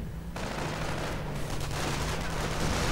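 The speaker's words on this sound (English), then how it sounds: "And the mortar opens up." Heavy battlefield gunfire from a World War II strategy game, with a mortar, a tank depot and a StuG in play: a dense, continuous rumble of shots and booms that stays loud and steady throughout, with no talk.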